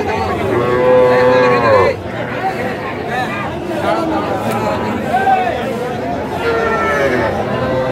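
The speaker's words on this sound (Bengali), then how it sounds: "তো আপনি গরুগুলা একটু দেখান তো, সুন্দরভাবে গরুগুলা দেখান" Sahiwal bull calves at a cattle farm in Kishoreganj, Bangladesh, give several drawn-out, loud moos close by, spaced across the stretch, while people chat in the background.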